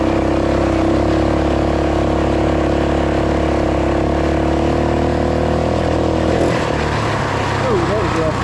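Roko Ranger 2WD off-road motorbike pulling hard in first gear, a steady loud engine drone close by that holds for several seconds before shifting pitch near the end.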